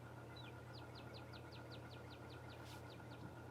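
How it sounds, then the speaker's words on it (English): A cardinal sings outdoors, a faint, distant series of about a dozen evenly spaced, sweeping whistled notes over a steady low background hum. "But that sounds like a cardinal."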